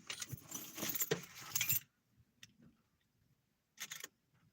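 Car keys jangle and clink close by for a couple of seconds during an early morning severe thunderstorm, then go quiet, with a short second rattle near the end.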